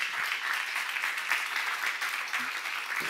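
A church congregation at a Revelation seminar breaks into sustained applause, a dense, even wash of many hands clapping together and filling the room without pause.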